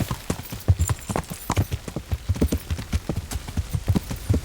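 Horse hooves clip-clopping in a steady trotting rhythm while riding in the medieval video game Kingdom Come Deliverance, clear and close with regular repeated hoofbeats.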